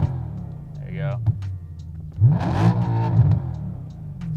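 A BMW E92 M3 with a Gintani tune and test pipes blips its engine in short revs, the deep exhaust note climbing and falling with crackles between bursts, loud and close.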